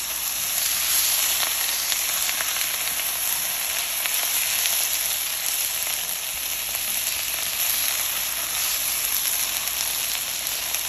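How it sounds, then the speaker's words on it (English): Snap peas stir-frying in a hot wok for a Chinese seafood bird nest banquet dish, giving a steady, close, continuous sizzle and crackle with faint stirring and no talk. "add in our snap peas"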